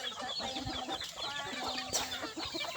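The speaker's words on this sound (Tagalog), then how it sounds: "Daming manok oh." Many chickens cluck and chatter continuously at moderate distance, a busy farmyard chorus with occasional sharper calls standing out.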